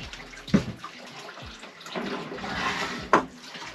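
Water gushing and splashing from a hose while winterizing an RV, rising and falling in strength, with a couple of sharp knocks or clunks standing out; no one speaks.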